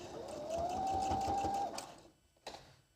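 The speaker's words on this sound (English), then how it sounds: "Then when you get to the end, you're going to back stitch again." Sewing machine back stitching at the end of a top-stitched seam, a close steady whirring run that stops after about two seconds, followed by a faint click.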